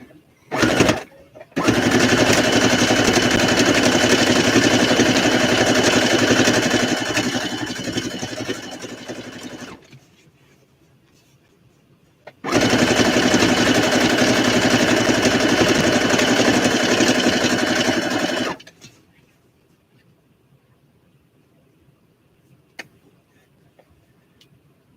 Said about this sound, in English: I'll sew the edge on the edge, a little trim on the edge